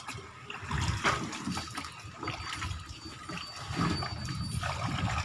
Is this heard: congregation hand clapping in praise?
no